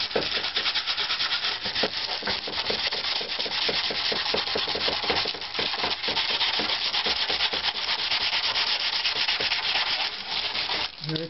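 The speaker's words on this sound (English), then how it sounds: "Scrub, scrub, scrub." Dutch rush scrubs the inside of a wooden instrument top plate in quick back-and-forth strokes, a steady dry rasping rub, close and continuous with no voices.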